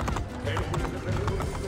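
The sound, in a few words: horse hooves in video game Assassin's Creed Brotherhood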